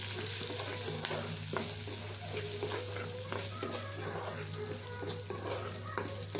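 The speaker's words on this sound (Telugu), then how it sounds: "ఇదంతా మనం బాగా ఫ్రై అవ్వాలి ఆయిల్లో." Dried red chillies and curry leaves fry in hot oil, a steady close crackling sizzle with faint stirring clicks and a low background hum.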